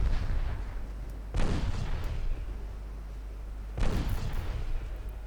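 Deep, rumbling naval gun salvos boom from warships in a 1948 Ultimate Admiral Dreadnoughts battle, with two loud blasts a couple of seconds apart, each rolling out into a long, low roar over constant background rumble.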